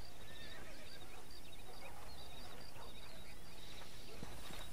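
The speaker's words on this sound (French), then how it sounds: "on va aller chercher des chevaux là, on va aller capturer des chevaux" A horse neighs and whinnies in the Western video game Red Dead Redemption, several faint high calls repeating over a low background of hoof clatter and ambient noise, quiet overall with no talking.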